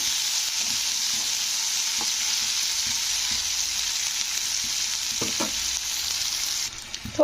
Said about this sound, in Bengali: তো আদা বাটাটা একটু তেলের সঙ্গে কষে নিতে হবে।